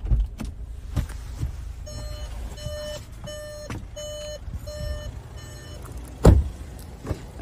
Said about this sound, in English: If we put the vehicle into reverse, we can see that it comes with parking sensors.